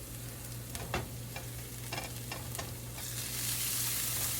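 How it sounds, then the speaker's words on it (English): Garlic sizzles in a pan while it cooks down for a veggie pizza, a steady frying hiss with a low hum and a few soft stirring taps, growing slightly louder toward the end; no one talks. "we're going to cook that down for about a minute till it gets fragrant."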